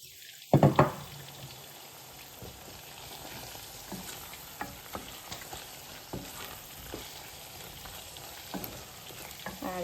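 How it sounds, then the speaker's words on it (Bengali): Orange peel and tomato dropped into hot, well-cooked spiced masala, frying with a steady close sizzle, an initial loud burst as they hit the pan, then scattered stirring knocks and scrapes throughout. "আচ্ছা এখন আমি অরেঞ্জের স্কিন আর টমেটো দিলাইরাম।"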